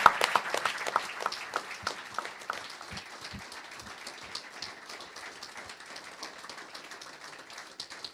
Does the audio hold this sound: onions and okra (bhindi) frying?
no